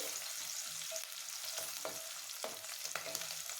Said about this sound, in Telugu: ఉల్లిపాయలు బాగా వేగితేనే ఈ ఫ్లేవరే బాగుంటుంది